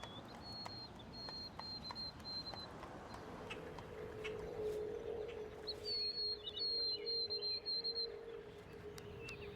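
A small bird in Central Park gives faint, thin chirps and short high calls, scattered across quiet outdoor ambience with distant background noise.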